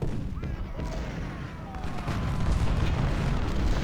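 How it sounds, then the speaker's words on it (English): Artillery fire from a Union battery in an Ultimate General: Civil War battle: dense, continuous rumbling booms and crackle of distant cannon and musketry, steady and heavy throughout with no clear separate shots. "And let the artillery keep doing its thing."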